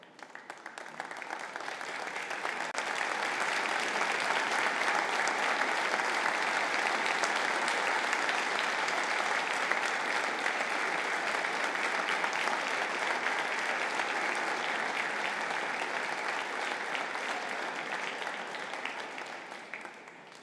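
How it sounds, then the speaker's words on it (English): A crowd at a university conferring ceremony gives the engineering and technology graduates a long round of applause, dense steady clapping from a large audience that swells in and keeps going for about twenty seconds. "maybe show your appreciation with a round of applause"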